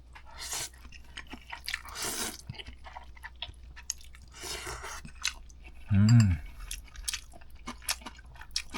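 Someone eats fish cake ramen close up, with soft slurps and chewing in scattered bursts and one louder crunchy bite near the end, with no talk.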